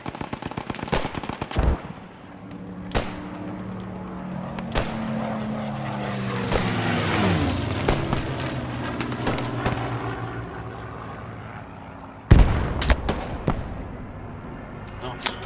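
A Stuka dive bomber attacks in the shooter game Post Scriptum, with a rising aircraft drone and pitch-sweeping engine scream over bursts of gunfire and loud impacts. Players talk over the battle noise.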